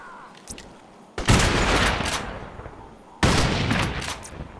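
Rifle gunfire in the video game Crysis: two dense, loud bursts of rapid shots, each sustained for over a second with a sharp onset and trailing decay, with no talk over them.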